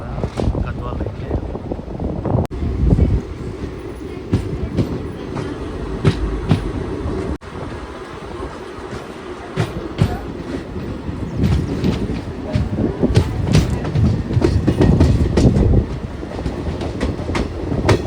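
A passenger train runs on the Hyderabad to Goa line near Gadwal Junction, with a steady rumble and rattle of carriages and wheels throughout. People talk faintly over the noise.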